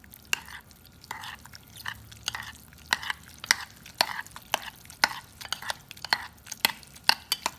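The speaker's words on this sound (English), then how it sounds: "Now just give it a nice stir." Yellow squash in olive oil is stirred in a frying pan, producing a steady rhythm of sharp, close clicks and scrapes of a utensil against the pan over a faint, low background.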